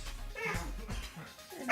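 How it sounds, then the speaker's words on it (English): A dog barks and yips indoors in a handful of short, uneven bursts at moderate distance, ending with a louder, sharper bark. "And hopefully my dog will stop barking."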